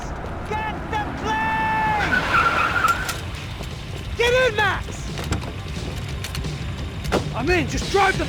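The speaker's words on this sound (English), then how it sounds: "Just drive the fucking car!" A car in Max Payne 3 drives hard, its tires squealing and skidding in repeated sharp bursts over a loud rumbling engine and the clatter of a chase, with people shouting.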